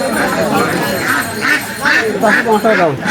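Many ducks quack in a busy cluster at a duck market in Beni Hat, with repeated nasal calls overlapping throughout and people talking among them.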